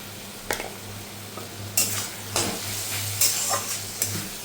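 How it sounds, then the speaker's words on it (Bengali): Spice masala frying in a pan with a little water, a soft continuous sizzle punctuated by several sharp scraping strokes as a utensil stirs and knocks against the pan. "অল্প একটু জল দিয়ে মশলাটাকে কষাবো।"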